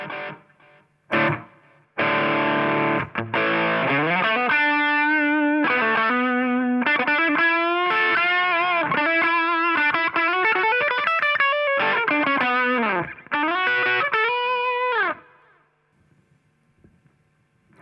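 Distorted electric guitar notes and chords through a Line 6 Amplifi delay effect ring out with echoing repeats trailing behind each phrase, loud and continuous, fading out at the end.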